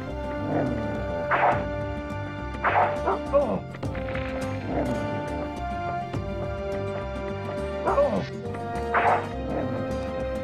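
Dogs in the stealth video game Tenchu barking and yipping in repeated bursts, with some whimpering, over a constant game soundtrack, while a player talks.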